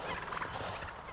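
Farm turkeys gobble in a snowy backyard beside a barn, giving a continuous, fairly faint chorus of overlapping calls.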